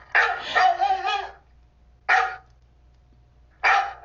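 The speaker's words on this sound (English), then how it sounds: "Jaden, mute your dog" A dog barks over an online classroom call, three loud bursts, the first a longer run of barks followed by two single short barks, close to the microphone with no talk in between.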